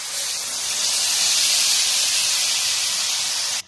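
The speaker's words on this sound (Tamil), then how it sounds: "இந்த மிக்சியில் அரைச்சி வச்சிருக்கிற விழுதை இதில் சேர்த்துருவேன்." Ground masala paste from the mixer hits hot ghee for a prawn roast, giving a loud, steady, close sizzle that holds evenly for several seconds and then cuts off, with no voices.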